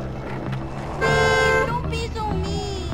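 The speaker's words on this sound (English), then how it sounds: "Who the fuck you honking at?" A car horn honks in the video game Bully, one sustained blare that starts after about a second and is followed by a second, shorter toot, loud and close over low background noise.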